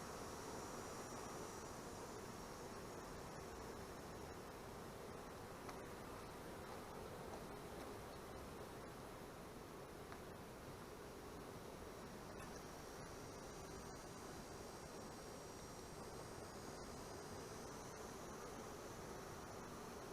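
Honeybees hum around their hive in a dense, steady drone that holds for twenty seconds, fairly faint and unbroken, with no voices.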